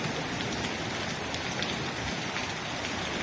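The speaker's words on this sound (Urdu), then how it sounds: "ایسی زبردست قسم کی بارش ہو رہی ہے" Heavy monsoon rain falls steadily in Murree, a dense, even hiss of drops pattering on surfaces that fills the whole stretch without a break, with no voices.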